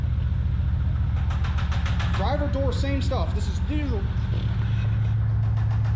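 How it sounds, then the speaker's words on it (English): A junkyard 1990 Maserati TC with a 3-liter engine, smoking as it runs, idles with a steady, even drone throughout while someone talks over it. "3-liter motor sounds great."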